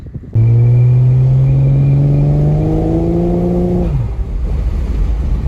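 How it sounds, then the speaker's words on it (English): A Toyota Cressida with a 1JZ engine revs hard, climbing to the limiter and holding a loud, steady, close high-rpm drone for several seconds before the throttle snaps shut and the engine drops back to idle. "started rev bombing her, hit limiter a few times"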